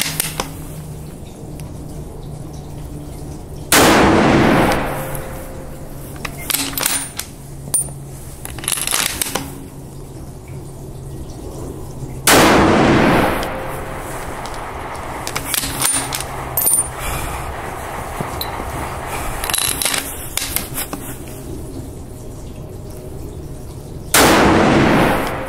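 Three gunshots fired outdoors over a doppler ballistic velocity chronograph, each a loud sharp crack with a short decaying tail, spaced about ten seconds apart amid faint shuffling and handling noises.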